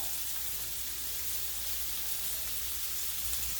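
Sea scallops sear in a hot pan with fat, producing a dense, even sizzling hiss that holds steady and close throughout.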